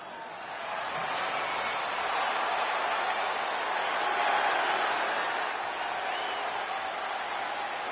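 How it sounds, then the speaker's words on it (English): A large wrestling arena crowd in the video game WWE 2K20 cheers in a continuous, dense roar that swells slightly midway, with no single voice standing out. "Listen to this crowd, guys. They're fired up for this one."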